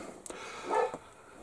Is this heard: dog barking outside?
yes